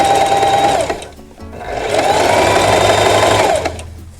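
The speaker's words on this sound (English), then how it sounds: "we're just gonna sew all the way down, and that foot does all the work for you" Sewing machine stitching down a zipper with a zipper foot, a loud, steady mechanical whir in two runs with a brief pause between, no voices.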